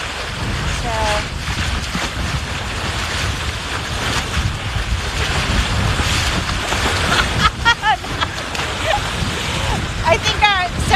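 Wind rushes and buffets across the microphone aboard a sailboat off southwest Florida at sunrise, with waves sloshing against the hull in a steady, noisy bed of sound and faint bird-like chirps near the end.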